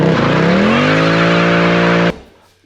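A Mercedes C63 AMG 507 estate with a Milltek secondary cat delete revs hard, its loud exhaust rising in pitch, holding a raspy roar, then cutting off abruptly.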